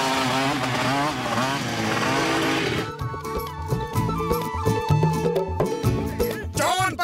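A cartoon motorcycle from a Motu Patlu chase scene revs and accelerates loudly over busy, swelling background music. The buzzy engine note rises and surges in bursts.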